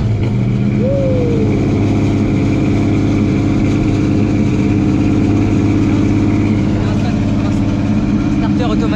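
A 1965 Ford Mustang engine, cold with an automatic choke, runs at a loud, steady, rumbling idle with a brief rise in revs near the start.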